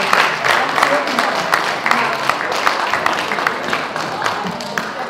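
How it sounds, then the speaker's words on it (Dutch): A crowd applauds prize winners at the Bildts Diktee 2025 dictation contest: dense, steady clapping that lasts throughout, with voices talking over it. "Daarom steeds een applaus."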